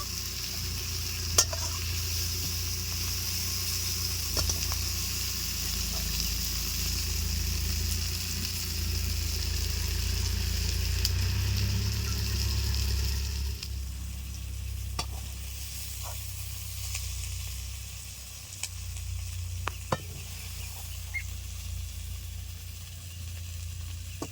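Pumpkin flowers and prawns sizzle in a hot pan while being stirred for a mashed bharta, a steady frying hiss with scraping strokes and a low hum beneath, quieter after midway.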